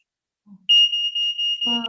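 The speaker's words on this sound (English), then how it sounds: "It's my smoke alarm." A loud, high-pitched electronic alarm beeps in a rapid repeating pattern, close by, ending with a brief voice at the end.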